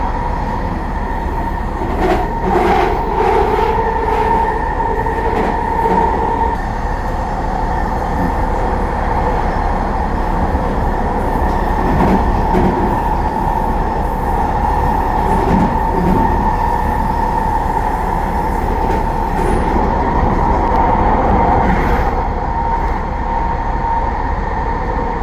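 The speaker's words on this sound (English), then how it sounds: "that's that train" A train rolls past at a seaside rail line, a steady rumbling roar of wheels and cars with faint clacking that holds evenly throughout, fairly close and loud with no talking.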